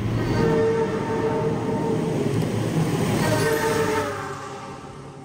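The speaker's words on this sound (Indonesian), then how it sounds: "Kereta api Argo Dwi Pangga baru saja melintas di stasiun Karawang, ngebut banget asli." The Argo Dwi Pangga express train speeds through Karawang station in Indonesia, a loud, close, continuous rushing roar of wheels and carriages that drops off sharply in the last second.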